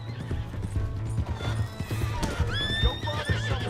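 A horse in Red Dead Redemption 2 clip-clops with rhythmic hoofbeats, then gives a loud rising whinny near the end, close and clear.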